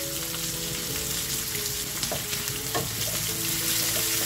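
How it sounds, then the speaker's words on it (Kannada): Onion, garlic, dried chillies and curry leaves fry in hot oil over a medium flame, giving a dense, steady sizzle with occasional faint stirring scrapes, close and continuous. "ಈರುಳ್ಳಿ, ಬೆಳ್ಳುಳ್ಳಿ, ಒಣಮೆಣಸಿನ್ಕಾಯಿ, ಕರಿಬೇವಿನ ಸೊಪ್ಪು ಎಲ್ಲವನ್ನು ಫ್ರೈ ಮಾಡ್ಕೊಳ್ಳೋಣ"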